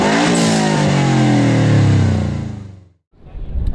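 A lowered, slammed car's engine revs loudly and close at a car show, the pitch sweeping down as it winds off, with a brief silence before another burst of engine noise.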